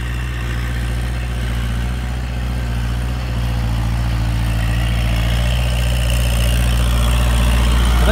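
A heavy diesel tractor engine idles steadily nearby with a low, even rumble that holds without change.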